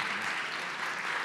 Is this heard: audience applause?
yes